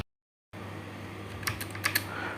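Typing on a computer keyboard while drawing a circle in AutoCAD, a few quick close key clicks ending in a firmer press of the enter key, after a brief silence at the start.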